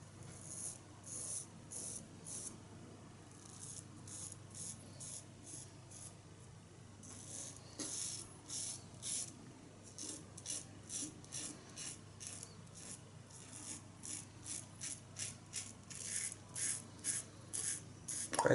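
Safety razor fitted with an Astra Superior stainless blade shaving skin after a hot towel, close rhythmic scraping strokes repeating in short bursts, quiet and alone.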